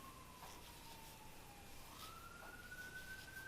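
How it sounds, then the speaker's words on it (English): Fire engine sirens passing through a residential neighborhood, a steady wailing tone that drifts lower then rises again, heard at a moderate distance through background hum, with no talking. "Do you hear the fire engines going by?"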